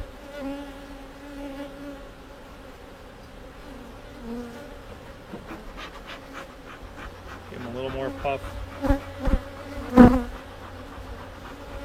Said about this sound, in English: There's a lot of bees and nowhere to go in this hive